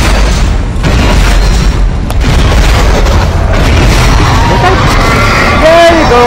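Gunfire and loud booming blasts from the Dead Space video game fill the clip, dense and constant, with a shrill rising tone near the end and some voice noise mixed underneath.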